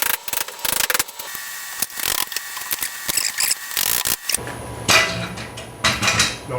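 Metal taps and knocks from hammering an alignment punch through a Jeep Patriot lower control arm mount during front suspension work, several close sharp strikes in an irregular run, with clanking tools and a mechanical rattle toward the end.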